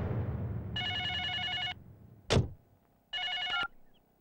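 A telephone rings in two electronic bursts, each lasting about a second, separated by a short thud in an otherwise quiet room.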